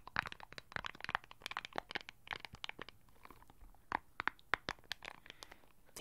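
Crisp, crinkly crunching as a plastic-like ball is squeezed and handled up close, in irregular bursts of crackling with short pauses between.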